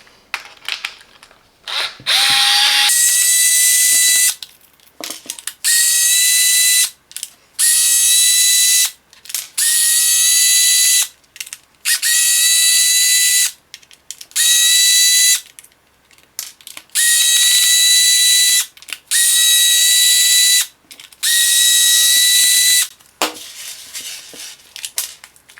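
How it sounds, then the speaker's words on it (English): A small power screwdriver spins out screws from Parkside 4V cordless secateurs, about ten close, loud whirring bursts of a few seconds each, separated by short quiet gaps and faint handling clicks. "let's dive in and disassemble this tool. We need to remove 2, 4, 6, 8,"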